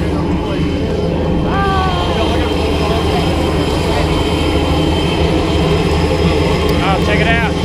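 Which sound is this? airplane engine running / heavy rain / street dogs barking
airplane engine running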